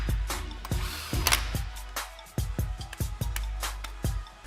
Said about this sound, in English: Run your new flywheel bolts in just snug and grab your torque wrench.